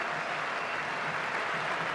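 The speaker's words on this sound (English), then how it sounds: "And listen to the applause." Cricket crowd at the Sydney Cricket Ground applauding a departing batsman during the Sydney Test, a steady distant wash of clapping from a large stadium audience.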